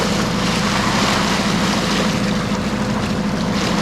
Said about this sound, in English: We'll just motor past the lighthouse. We're bucking almost 2 knots of current right now